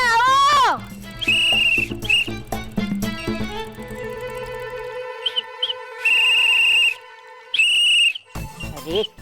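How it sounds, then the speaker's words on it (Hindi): A shrill whistle is blown in several sharp bursts, some short and some held, after a wavering vocal sound at the start, loud and close in a drama scene. "बोल रहे हो या फिर सीटी बजा रहे हो?"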